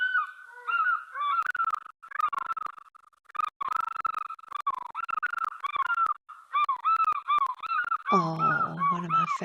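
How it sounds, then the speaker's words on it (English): A pair of African fish eagles call back and forth at a waterhole, ringing yelping cries in repeated bursts, clear and fairly close, with the calls overlapping into a loud duet near the end. "African fish eagle calling. It's definitely a pair calling to each other, which is very special to hear."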